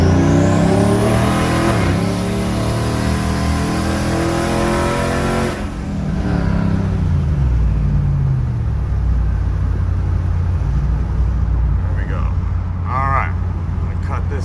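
Turbocharged RAM Hemi truck with a redesigned intercooler, engine roaring loud and close as it accelerates hard through the revs, then easing into a lower steady rumble. A voice speaks briefly inside the cab over the engine.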